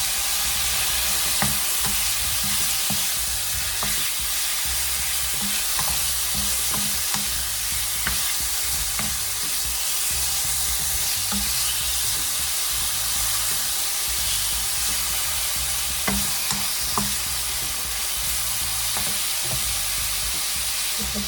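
Turkey strips sizzling with mixed vegetables in a hot pan, continuous loud frying hiss with regular scraping and clinking of a utensil as the mixture is stirred over and over.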